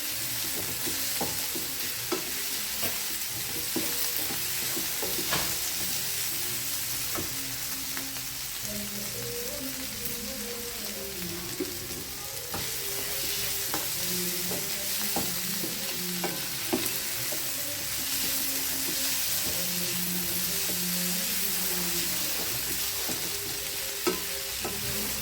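Mushroom fry stirred in a pan with curry leaves, a steady close sizzle under repeated soft scraping strokes of the spoon, with no talking.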